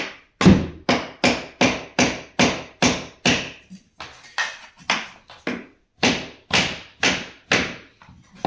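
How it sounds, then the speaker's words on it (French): Floating laminate flooring is tapped into place with a small wedge near a door frame: a steady series of about fifteen sharp, close wooden knocks with short gaps, briefly pausing midway. "Il suffit juste avec une petite cale. On vient juste retaper là pour que ça recule."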